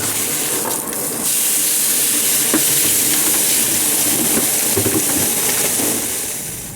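A T-bone steak sizzles loudly in a pan on board a sailing boat, with a steady close hiss of frying and faint clicks from the pan, and no talking.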